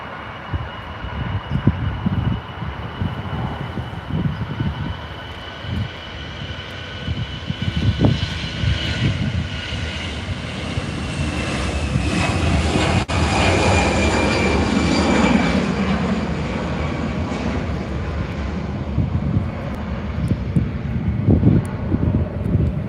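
An airliner takes off, its jet engines roaring loud and continuous, swelling toward the middle as the aircraft powers down the runway and climbs away, heard from a distance with broadband rumble and no voices.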